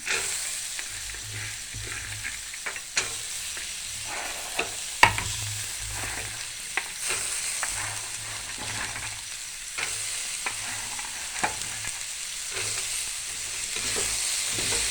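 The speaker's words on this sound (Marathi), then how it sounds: "आता आपण जे चणे भिजत घालून ठेवलेले होते ते भिजलेले चणे आपण आता टाकून घेऊ" Soaked chickpeas and cut small potatoes stirred in a pan for a chickpea curry: a steady frying sizzle with repeated scrapes and knocks of the spoon against the pan, close and continuous.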